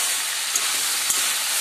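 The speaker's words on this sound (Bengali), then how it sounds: "এখানে করলা আলু ভাজা হচ্ছে রান্না" Bitter gourd and potato pieces fry in a pan with a steady, even hiss of sizzling oil, close and continuous, with a couple of faint pops and no voices.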